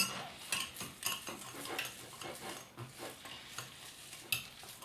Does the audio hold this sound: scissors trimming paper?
no